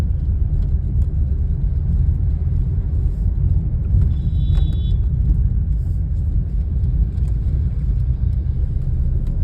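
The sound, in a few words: road traffic of many vehicles near a market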